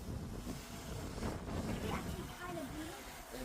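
Strong wind of about 15 mph from the northeast buffets the microphone outdoors, a constant rough rumbling roar, while a DJI Mini 4 Pro drone flies at low altitude.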